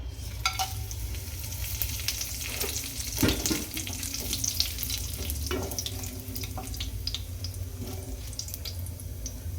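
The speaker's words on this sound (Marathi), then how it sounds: "तेल चांगलं गरम झालेलं आहे आता आपण खडे मसाला टाकून घेऊ जिरं मोठी इलायची छोटी इलायची चक्रफूल दालचिनी तेजपत्ता" Whole spices (cumin, black and green cardamom, star anise, cinnamon and bay leaf) sizzle in hot oil for shahi paneer, a steady close crackling hiss with a few sharper pops and clinks, with no talking.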